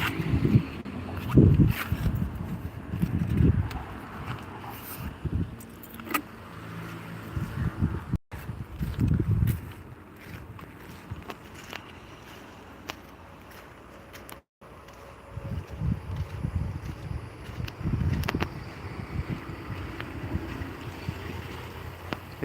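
Strong flow of a swollen village stream after three days of heavy rain, a loud continuous outdoor rush with heavy low rumble and wind buffeting the microphone, dipping briefly twice.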